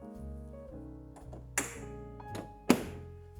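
The boot lid of a 1969 Jaguar E-Type swings down and shuts with a solid thunk, followed a moment later by a second firmer thud, close by in a quiet setting.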